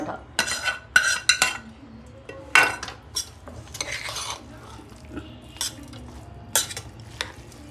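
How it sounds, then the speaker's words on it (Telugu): A metal utensil stirs and mixes pulihora tamarind rice in a pan, giving irregular scraping and sharp clinks against the metal. The sounds come close and moderately loud, with short pauses between strokes. "బాగా ఇట్లా మిక్స్ చేయాలి"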